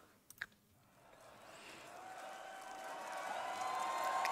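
Huge open-air festival crowd at a Rammstein show at Rock im Park 2017 swells from a quiet start into a growing roar of cheering, rising steadily in loudness, with a couple of sharp clicks at the beginning.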